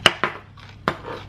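A knife chops fresh celery on a cutting board: three crisp, close knocks in quick uneven succession, with faint scraping between them and no talking.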